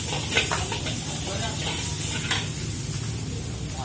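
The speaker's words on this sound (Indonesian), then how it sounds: "Langsung masukkan dengan bawang. Kita aduk sebentar." Onions sizzle steadily in a hot pan for fried rice, with the scrape and clatter of stirring over the frying hiss, loud and close throughout.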